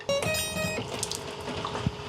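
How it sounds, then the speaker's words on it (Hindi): Water from an RO water purifier tap runs briefly into a small spoon, a light splashy trickle with faint clinks, fairly close and without talk. "चम्मच में पानी भरते हैं"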